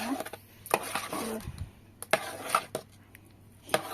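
Salted instant dosa batter being mixed by hand in a bowl, with a run of soft, irregular wet scraping and clacking strokes up close and a few sharper knocks against the vessel.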